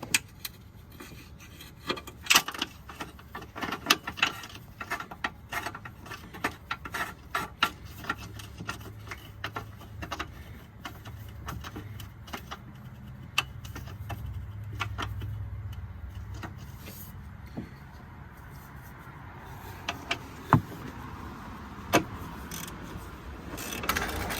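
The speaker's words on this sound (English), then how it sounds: "Now tightening with ratchet." A ratchet tightens 15 mm strut assembly bolts on the front strut of a 2013 Dodge Journey 3.6 SXT, giving a long run of quick, close mechanical clicks and rasps in a steady rhythm, with no talk.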